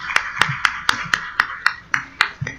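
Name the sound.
audience applause for the speaker Esmeralda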